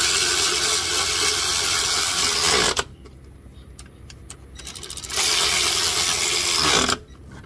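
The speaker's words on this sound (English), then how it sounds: "I use an air ratchet" An air ratchet drives the bolts of a replacement A/C compressor on a 2014 Kia Soul, with two loud, steady bursts of buzzing whir separated by a quieter gap that holds a quick series of clicks.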